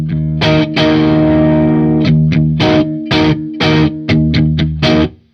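Electric guitar played through a Marshall JCM2000 amp with heavy distortion, loud chugging chords and short palm-muted bursts with a sustained ringing chord, no voices.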